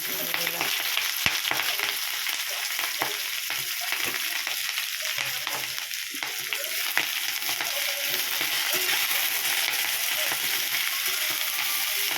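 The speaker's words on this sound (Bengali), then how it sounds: "সবজিটা ভাজা ভাজা হোক" Mixed vegetables frying in oil in a pan for chorchori, a continuous crackling sizzle with scattered spatula scrapes and stirring throughout, moderately loud and close.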